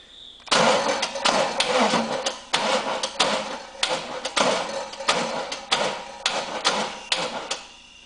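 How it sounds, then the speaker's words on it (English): A GM LTx V8 engine with a solid roller cam cranking over on the starter in repeated rhythmic bursts, loud and close, with a steady chugging pulse and no talk. "we're going to bump the engine over"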